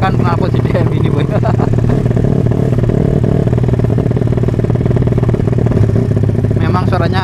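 Honda Tiger motorcycle fitted with a JDM aftermarket exhaust, a loud, close engine rumbling and revving with a rough, clattering exhaust note that holds steady throughout.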